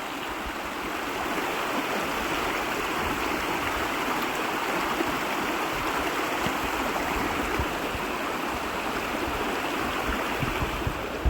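A mountain stream on the Patagonia W Trek runs high after rain, tumbling over a low dam of rocks in a loud, constant, even rush of water that fills the whole stretch without pause.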